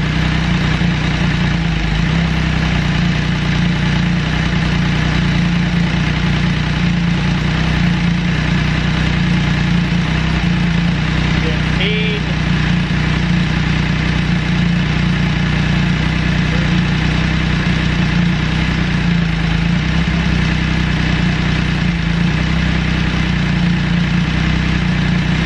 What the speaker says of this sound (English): So start up the sled, these tests are all at idle once your engine is warm.